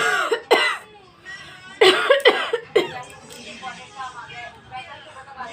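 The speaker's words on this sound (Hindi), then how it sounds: "मेरा जो खांसी है वो पूरा अंदर से निकल रहा है" A few harsh, deep coughs from a person with a chesty cough, loud and close, followed by softer throaty sounds and muffled background noise.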